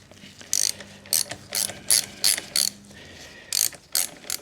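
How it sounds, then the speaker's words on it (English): A ratchet loosens the brake caliper bolts on a BMW R100GS motorcycle, clicking out about nine short, loud bursts of rapid pawl clicks, close up with brief pauses between strokes. "So I will loosen the brake caliper bolts."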